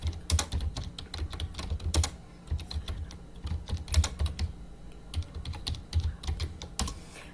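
Someone types on a computer keyboard to look up a Bible passage, with rapid close clicky keystrokes in uneven bursts and brief pauses, loud and clear with no talking.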